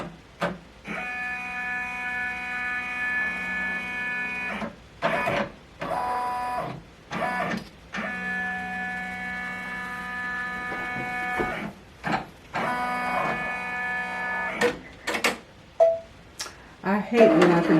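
An embroidery machine traces a design outline on a T-shirt, giving a steady, tonal mechanical whir broken into repeated runs by short pauses and clatter. A person talks in between and over it.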